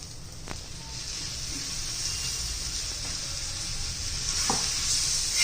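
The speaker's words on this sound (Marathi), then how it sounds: "आता आपण त्याच्यात 2 चमचे दही घालणार आहोत." Fried green chillies with roasted sesame and peanuts sizzle steadily in a pan as yogurt is stirred in for a Maharashtrian-style dahi mirchi, with a soft continuous hiss and a few brief spoon scrapes, no talk.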